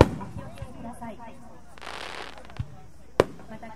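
Fireworks at the Izumo Myth Festival fireworks display in Shimane crackle and pop at a distance, with a fizzing burst and a sharp single crack, beneath a public-address announcement.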